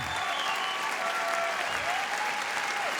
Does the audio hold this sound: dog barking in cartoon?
no